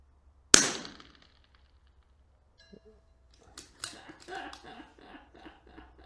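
A single sharp, loud shot from a CZ 457 LRP rifle at a 300-metre gong target cracks out, then fades into silence before faint voices and shuffling noises follow.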